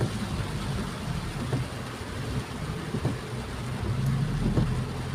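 Steady rain hisses throughout, a dense, even wash of noise with a low rumble underneath and no voices.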